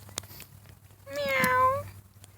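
A single cat meows once, a clear rising-then-falling call lasting under a second, close by amid light background noise, with no talk over it.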